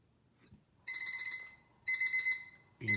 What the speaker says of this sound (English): We will now wait 1 minute for the alarm to go off.